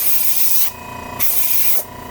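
Spray paint hisses onto a latex necronomicon wallet in two steady bursts with a short pause between, loud and close with no voices.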